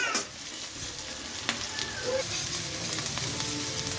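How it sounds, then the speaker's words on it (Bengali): Food stirred in a frying pan until brown, giving a steady, close sizzle with occasional clicks and scrapes of the spatula throughout, and no talking. "ব্রাউন হওয়া অব্দি আমি একে নাড়াচাড়া করে যাবো।"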